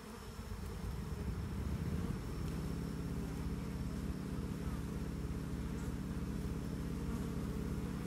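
Asian honey bees (Apis cerana) buzz in a steady, dense hum as they gather after a swarm transfer, the drone continuous and close with no talk over it.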